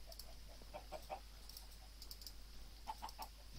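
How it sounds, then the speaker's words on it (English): Faint chicken clucks from the video game Minecraft, a few soft short calls in two small clusters against a steady low hum and background noise. "That better be a chicken."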